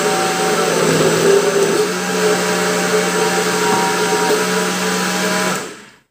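A blender runs steadily at high speed, pureeing cauliflower soup with a splash of milk, a loud continuous whir that holds for several seconds before cutting off abruptly.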